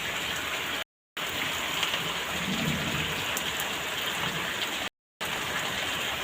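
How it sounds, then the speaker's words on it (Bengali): Heavy midday rain pours down steadily in a village, a dense even hiss of drops on surfaces that stays loud and unbroken, cut by two brief silent gaps. "দেখো কত জোরে বৃষ্টি"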